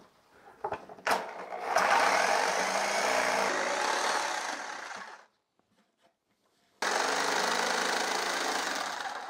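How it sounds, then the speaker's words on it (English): A large electric jigsaw cutting a wooden jack-o-lantern shape buzzes loudly and steadily in two bursts, stopping for about a second and a half in between, after a few short knocks at the start. "This is a fairly large jigsaw, so it can be difficult to get all the little curves and stuff that you do"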